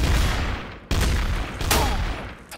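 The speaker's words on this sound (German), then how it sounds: "Ich höre Schüsse." Rapid bursts of gunfire in the video game Trouble in Terrorist Town crackle in quick succession, loud and close, with sharp reports and a noisy, echoing wash between shots.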